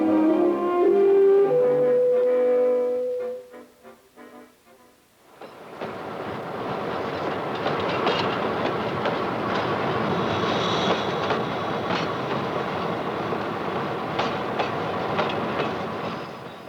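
A freight train arriving at a rail yard rolls past close by, a steady rumbling clatter of wheels on rails that swells in and continues loudly after a brief musical opening.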